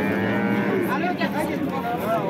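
Cows at the Baliqchi livestock market in Andijan region give a loud, drawn-out moo close by, over a crowded background of market chatter.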